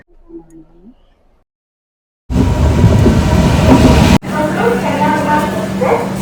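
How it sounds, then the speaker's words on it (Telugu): A Bengaluru to Kanyakumari Express train bound for Chengannur, heard as loud, steady rolling rumble that cuts in suddenly after a quiet stretch with faint voices, continuing with a rhythmic rattle to the end. "బెంగళూరు నుంచి కన్యాకుమారి ఎక్స్ప్రెస్ చెంగనూరు వెళ్ళడానికి B1 అయితే వచ్చింది."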